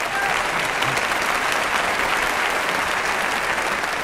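Dense, steady applause from an evening audience fills the whole stretch, a broad wash of many hands clapping at even loudness with no pauses.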